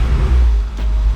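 A Honda engine with its supercharger switched off revs sluggishly, a loud continuous low rumble filling the whole clip with a slight swell and dip in level, and no talking.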